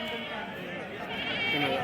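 Sheep, including Bijapuri breed, bleat at the busy Lonand goat and sheep market in Maharashtra, brief wavering calls mixed into a crowded murmur of voices.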